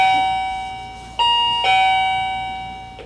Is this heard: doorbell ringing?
yes